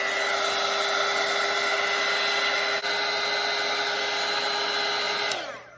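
A hair dryer blows in a loud, steady whine up close while drying a watercolor painting, with a brief dip midway, and it switches off at the end, no talking.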